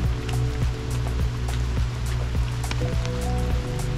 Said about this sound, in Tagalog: so inabutan kami ng ulan